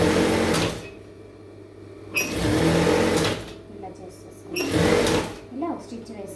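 A sewing machine stitches a garment lining in three short, loud, close bursts separated by quiet gaps, with a voice talking in between.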